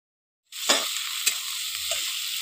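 Chopped tomato tipped into a pan of onions fried until reddish-brown, setting off a loud continuous sizzle with a few stirring scrapes over the steady hiss.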